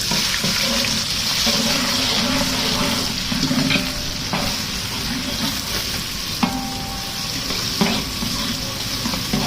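Onions frying in hot ghee in a pot for chicken korma, a steady close sizzle with occasional stirring scrapes and clinks, no talking.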